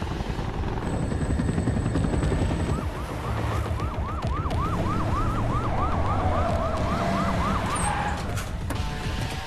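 An ambulance siren wails in steady repeating rising-and-falling cycles through a tense film action climax, loud over a dense rumbling roar of engines and rotor-like noise.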